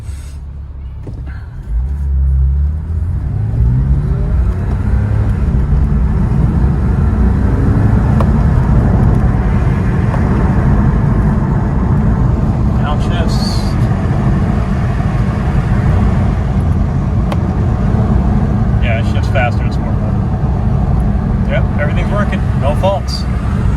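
A Porsche 911 driving in sport mode, its engine rumbling steadily close by with gear shifts, while someone talks over the engine noise.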